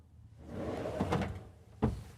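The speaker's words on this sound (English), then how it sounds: "Soft close. And we've got all these dresser drawers here." A soft-close dresser drawer in a 2026 Newmar Grand Star 3444 Super C motorhome slides shut with a gentle rumbling glide, then lands in one soft, muffled thump near the end, close by and without talk.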